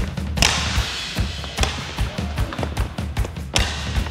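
Roller hockey sticks hitting a puck, a run of sharp knocks and thuds at an uneven quick rhythm, close and fairly loud, with no talk.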